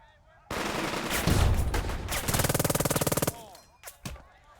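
Squad gunfire in the World War II strategy game Burden of Command, a loud burst of mixed rifle and rapid machine-gun fire lasting about three seconds, followed by a couple of fainter shots.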